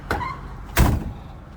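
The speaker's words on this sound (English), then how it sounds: "Door closes and fits nicely." A 1956 Oldsmobile Super 88 Holiday Coupe door is shut, giving a light click of the latch followed by a solid, deep thunk close by, then quiet.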